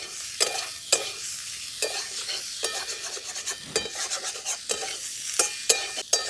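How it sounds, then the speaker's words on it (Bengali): Potatoes fry in a pan with salt, turmeric and green chillies, a steady sizzle broken by repeated close scraping and clinking as a utensil stirs them; no one speaks. "দেখুন আলুগুলো ভাজা ভাজা হয়ে গেছে আমাদের।"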